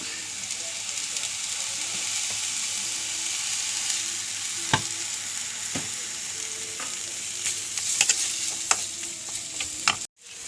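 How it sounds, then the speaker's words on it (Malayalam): Coconut roasts in a hot pan for onion sambar, giving a continuous sizzling hiss with occasional spatula taps and scrapes, then a sudden cutoff near the end. "അപ്പോൾ നമുക്ക് അതിലേക്ക് നാളികാരം വറക്കാം കുറച്ച് നാളികാരം വറക്കാം"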